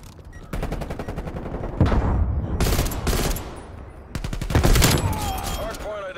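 Sentry turret in Call of Duty Black Ops Cold War on the Nuketown holiday map firing long, rapid automatic bursts, loud and dense, with gunfire repeating in clusters across the span.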